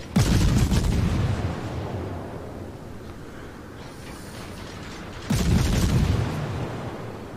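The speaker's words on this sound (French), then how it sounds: "Les canons du Cossack font très très mal." Two heavy booming blasts of naval cannon fire from a destroyer in World of Warships, each followed by a long rumbling decay, the second coming about five seconds after the first.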